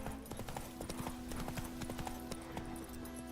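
Roach the horse trotting in The Witcher 3, hooves clip-clopping in a steady, close rhythm over continuous game ambience, with a voice briefly urging the horse on.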